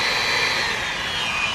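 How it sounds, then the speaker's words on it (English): A power tool sanding the edges of a Lexan shield for an airsoft optic or light, a continuous high, whirring grind held steady for a moment, close and loud. "And now I'm going to do just one final sanding."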